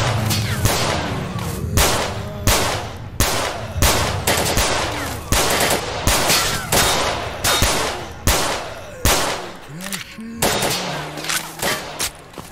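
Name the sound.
gunfire in the video game STALKER Narodnaya Solyanka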